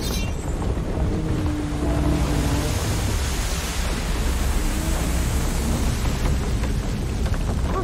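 Wind and waves wash around a boat in the God of War video game, a dense, steady roar of surf and gusting air that holds loud and unbroken throughout.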